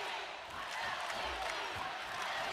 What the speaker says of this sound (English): Sold out crowd in the pyramid, making some noise for both sides